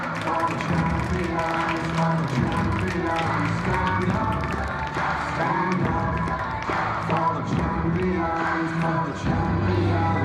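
Crowd applause and cheering fill a school athletic meet as a Division 4 boys' overall champion is honoured, a dense, steady wash of many hands and voices under music-like tones.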